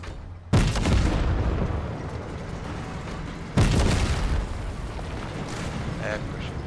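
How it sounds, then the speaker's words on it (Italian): Cannon fire in a single-player shooter video game: two loud, close booming blasts about three seconds apart, each with a long rumbling, crackling tail and steady background noise, no talking. "Chiudiamo un po' con il cannone."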